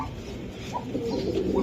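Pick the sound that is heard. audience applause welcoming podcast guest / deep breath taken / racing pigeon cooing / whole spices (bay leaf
racing pigeon cooing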